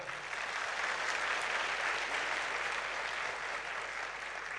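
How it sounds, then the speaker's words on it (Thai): An audience at a business seminar claps steadily in a faint, even, continuous round that carries no speech. "ขอเสียงปรบมือ"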